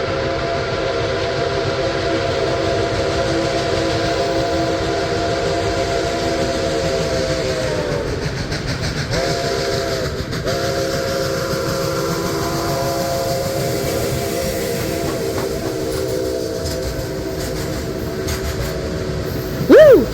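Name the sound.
steam locomotive arriving with whistle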